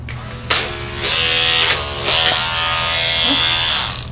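Electric dog grooming clippers fitted with a 7 finishing blade buzz on a Wire Fox Terrier, starting abruptly and running steadily close by, with the pitch shifting slightly as the blade moves through the coat.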